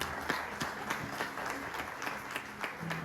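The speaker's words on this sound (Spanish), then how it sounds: "Denle un aplauso al Señor." A church congregation applauds in a sustained, moderately loud burst of clapping with scattered individual claps, with no speech over it.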